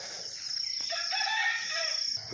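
A rooster crows on a farm among other chickens, a long drawn-out call lasting about two seconds, fairly close and clear, with no talking.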